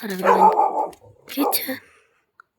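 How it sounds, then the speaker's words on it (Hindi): A dog barks at night outside a village home in the mountains, giving a couple of short barks close by, mixed in with someone talking. "हमारा कुत्ता भौंक रहा है"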